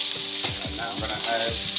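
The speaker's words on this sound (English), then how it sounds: "now I'm going to add my onions first. I'm going to give them a little saute first" Onions sautéing in a pan on the stove, a steady close sizzle with soft stirring scrapes and clinks over the frying hiss.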